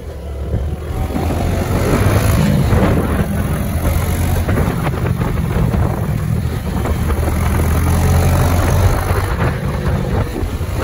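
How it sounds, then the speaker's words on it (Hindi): A motorcycle engine drones steadily while riding, mixed with heavy wind buffeting on the microphone, loud and continuous. "अभी आवाज सुनो आवाज बाइक की"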